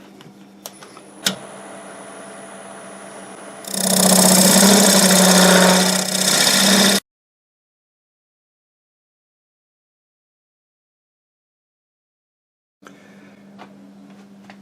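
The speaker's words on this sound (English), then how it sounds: "I'm going to establish that end using my parting tool." A wood lathe spins with a low hum, then a parting tool bites in with a loud, harsh scraping roar for about three seconds before everything stops dead; after several seconds of silence the lathe hum returns faintly.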